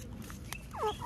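A rooster gives short clucking food calls to summon hens, a quick burst of rising and falling notes near the end over a steady background hum.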